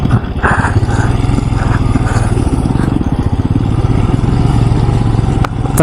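A motorcycle in first gear pushes through a water crossing on a Ladakh road trip, its engine chugging steadily and loudly close by with clattering and splashing texture throughout.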